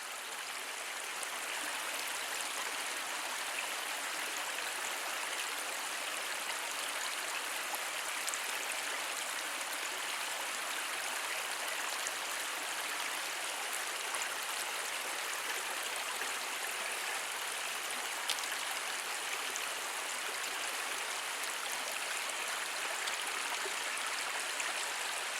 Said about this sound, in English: Another little side creek here.